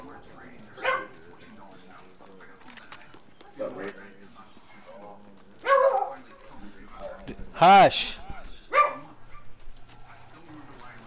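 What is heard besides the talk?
dog barking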